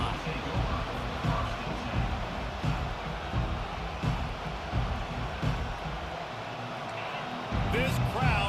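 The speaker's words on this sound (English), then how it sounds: "This crowd bringing an ear-splitting welcome to their visitors." Stadium crowd in a Miami vs Nebraska college football video game roars steadily throughout, a dense continuous cheer with brief swells near the end, heard under commentator talk.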